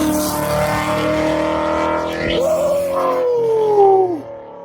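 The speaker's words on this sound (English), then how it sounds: "You already know this is the 2017 boosted Mustang." Boosted 2017 Ford Mustang accelerating hard, a loud, close engine note rising through the gears with a brief shift break partway, then the revs fall away at the end.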